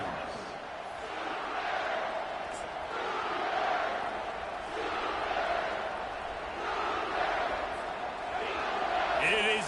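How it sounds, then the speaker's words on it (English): A large American football stadium crowd roars steadily while the home team defends, swelling louder in waves, with a commentator's voice faintly under the noise. "Getting loud as this crowd tries to help its defense."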